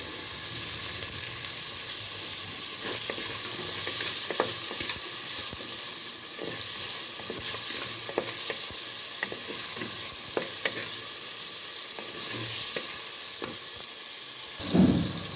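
Chopped tomatoes sauté in a pan with a little salt for a Tamil prawn curry, giving a steady close sizzle with scattered scraping stirs and a louder clatter near the end.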